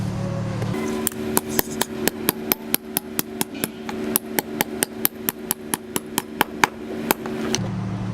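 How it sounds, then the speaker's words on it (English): A 3-pound mallet drives wedge anchors into concrete, landing about two dozen sharp, ringing blows at a quick steady rhythm over a low steady hum, close and loud. "I recommend any type of hammer over a 16-ounce hammer for setting the wedge anchors into the concrete"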